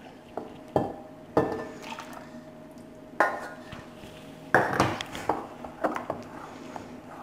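Spoon stirring dark chocolate ganache with cream in a bowl: repeated sharp clinks and knocks against the bowl, some isolated and others in quick clusters, close and fairly quiet, with no speech.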